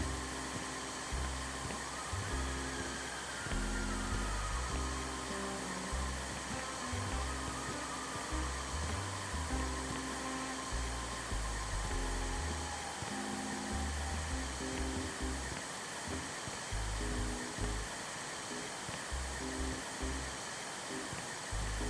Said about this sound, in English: Let's do some vacuuming.